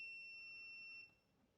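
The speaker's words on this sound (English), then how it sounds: "So it goes beep because I haven't set the threshold for beeping on that meter." Multimeter in continuity mode, probes on a flight controller motor pad, gives a single thin, steady high-pitched beep for about a second before cutting off into quiet room tone.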